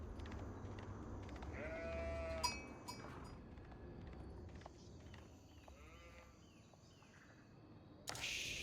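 Sheep bleating in the strategy game Age of Empires IV, with a few short wavering bleats rising over steady in-game ambience and scattered unit sounds.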